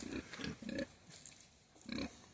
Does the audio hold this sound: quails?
no